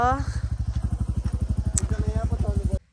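A motorcycle engine thumps in a fast, steady pulse close by, loud throughout before cutting off abruptly near the end.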